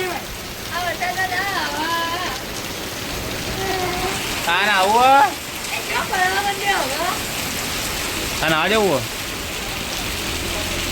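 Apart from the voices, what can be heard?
heavy rain falling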